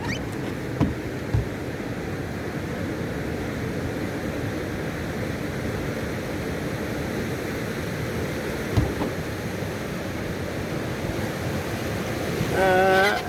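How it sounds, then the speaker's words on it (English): Rushing rapids on the Mississagua River make a steady, broad roar of whitewater that fills the whole stretch at an even level, with a couple of faint knocks and a slight swell in the noise at the end. "So apparently there's a few rapids here."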